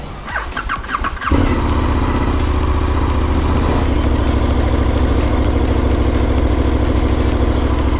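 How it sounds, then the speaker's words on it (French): A KTM 1290 Super Adventure motorcycle is started with a push of the button: a brief whirring crank, then the engine catches at about a second and settles into a loud, steady, close idle. "on va démarrer la moto tout simplement au bouton"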